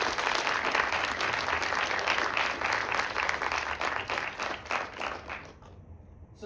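A campus entrepreneurial event crowd applauds a venture capital guest, dense and sustained clapping filling the room at an even, loud level before tapering off abruptly near the end.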